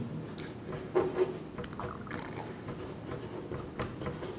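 Chalk or marker scratching across a board in a teaching setting, steady rubbing strokes close by with a few sharper taps, continuing without speech.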